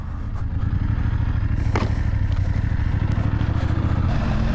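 A touring enduro motorcycle grinds through boggy mud off-road, its engine droning loud and close with steady throbbing, while clattering and scraping from the terrain sound over it throughout.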